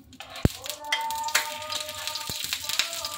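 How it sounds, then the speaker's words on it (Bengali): Kheer-filled patishapta pitha fries in a little ghee, a steady close sizzle and crackle with a few sharp taps of a utensil against the pan. "একটু হালকা ঘি দিয়ে পিঠেটা একটু ভেজে নিচ্ছি।"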